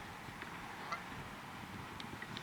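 Geese out in a farm setting give faint, distant honks, a few scattered calls over steady wind and low outdoor rumble.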